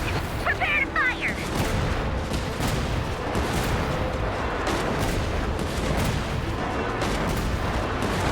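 Artillery fire in the video game Genshin Impact: a dense, continuous barrage of rumbling booms and overlapping blasts, loud and steady throughout, with a voice talking over it.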